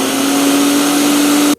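A kitchen blender purees a creamy mixture with milk, butter and a splash of rose water, a steady loud motor whir running continuously before cutting off abruptly at the end.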